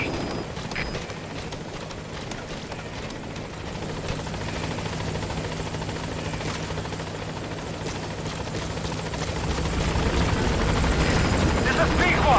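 A military helicopter from Metal Gear Solid V approaches a landing zone, its rotor thrum a steady dense roar that grows louder and nearer toward the end, with radio voices talking over it.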